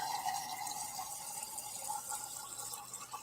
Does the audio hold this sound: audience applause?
no